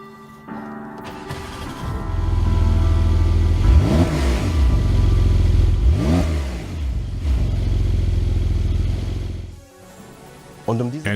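A 2020 Porsche 911 Carrera 4S of the 992 generation with a particulate filter, its engine rising loud in a long run of revs through quick shifts of an 8-speed dual-clutch gearbox, then cutting off and returning briefly.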